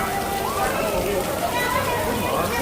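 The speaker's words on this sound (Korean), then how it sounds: "비가 이렇게 많이 오는데?" Heavy rain pours steadily at an outdoor amusement park on a windy day, a dense continuous hiss and patter filling the scene with no break, fairly close and even in loudness.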